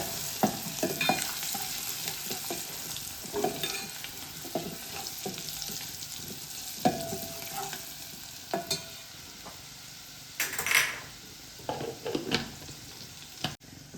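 Close, steady sizzle of garlic frying in oil with turmeric until crisp, broken by repeated scraping and clinking strokes of a spoon stirring the pan, with no voices.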